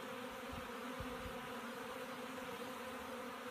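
Honey bees swarm around an open Langstroth hive, filling the air with a steady, dense buzz, with a few soft low thumps in the first second and a half.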